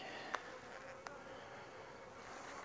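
Honeybees hum in a steady faint drone around an open hive during an inspection, with a couple of brief clicks, no talk.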